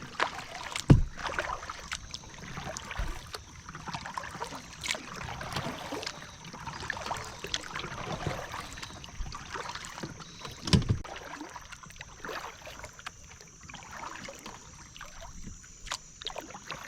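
A Tucktec folding kayak paddled across a calm pond, soft rhythmic paddle dips and gentle water trickles and splashes, close but quiet, with a faint steady background and no talk.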